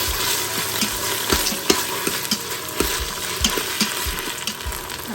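Ginger garlic paste sizzles and fries in an Instant Pot, a steady close hiss with regular scraping knocks from a spoon stirring, and no one talking.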